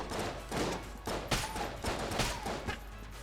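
Rapid bursts of gunfire from a weapon in the twin-stick shooter Enter the Gungeon, clustered repeated shots at steady volume across the clip with no talking.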